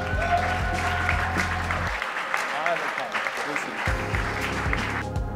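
An audience at a New Year's reception in a palace ballroom claps warmly to welcome a speaker, steady dense applause throughout, with someone speaking over it near the start and end.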